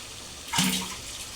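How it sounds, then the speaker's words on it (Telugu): A short splash of water pouring into a pot of frying chicken curry, lasting under a second against a quiet room background. "వాటర్ వేస్తున్నాను."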